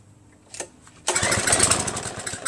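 A primed, choked Craftsman pressure washer engine gives a short failed pull, then catches and runs at a loud, steady, close putter.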